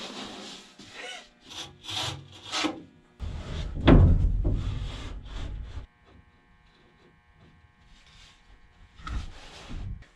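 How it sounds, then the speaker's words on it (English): Hand saw cutting into drywall in a shop office renovation, short rasping strokes in bursts, then a louder sustained stretch of sawing before it falls quiet; close and fairly loud. "I'm just gonna cut it into the drywall 1 inch."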